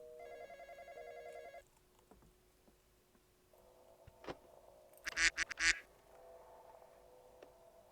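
A telephone rings in the Roblox video game, a short electronic trill that sounds once at the start, followed later by a few loud quacking honks.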